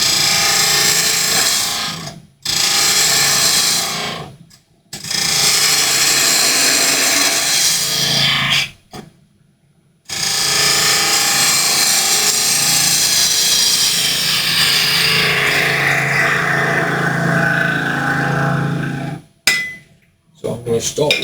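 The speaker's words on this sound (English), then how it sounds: "this is a ball gouge." A ball gouge cuts a wooden apple spinning on a lathe, giving a loud, continuous rough scraping hiss in long passes broken by a few short pauses, close and steady.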